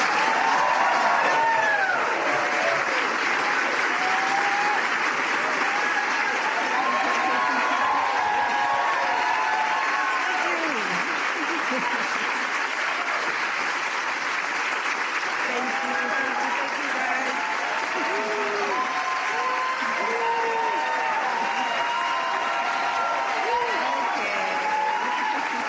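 A large audience applauds Michelle Obama on her book tour, dense sustained clapping with cheering that stays loud and steady throughout, and voices are heard under it.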